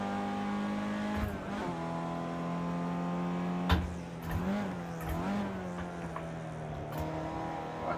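Audi A1 Quattro race car in the Project CARS 2 racing game at Bathurst, engine droning and rising through revs with gear changes and brief tire squeal, steady and fairly quiet, with no voice.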